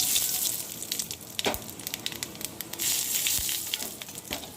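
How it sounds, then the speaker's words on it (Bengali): Black cumin seeds crackle and sizzle in hot oil left over from frying fish, a close, steady frying hiss with sharp pops scattered through it. "আর এই যে ওই তেলের মধ্যেই আমি এখন দিয়ে দেব কালো জিরে।"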